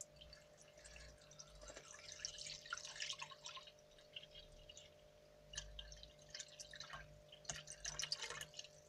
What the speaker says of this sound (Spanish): voy a llenarlo de agua, voy a echarle agua